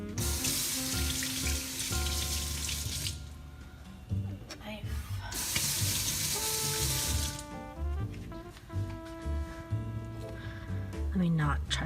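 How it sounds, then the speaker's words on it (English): Kitchen tap runs in two bursts while hands are rinsed during home salsa prep with roasted corn, water hissing loudly up close with music playing underneath throughout. "Let me rinse my hands."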